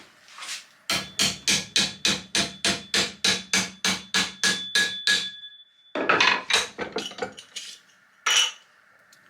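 A hammer strikes sheet metal folded over a shaped wooden block held in a vise for an Austin 7 special's hinge sections. About fifteen sharp, ringing metallic blows land in a fast, steady rhythm, followed by a few scattered, irregular hits.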